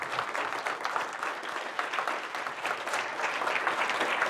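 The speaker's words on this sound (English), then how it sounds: "A big round of applause for Mobile Era" An indoor conference audience gives a sustained round of applause for the event organizers, a dense, even clatter of many hands clapping with no talk over it.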